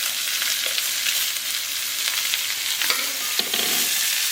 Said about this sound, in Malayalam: ഇനി നമുക്ക് അടുത്തത് സവോള ഇടാം കേട്ടോ.